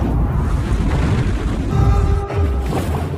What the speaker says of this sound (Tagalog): Pagkatapos ay malakas na pagsabog ang naganap.